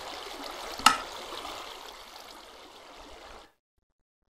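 Flowing water blocks in a Minecraft world give a steady, close wash of trickling stream noise with one sharp splash near the start, then stop abruptly partway through.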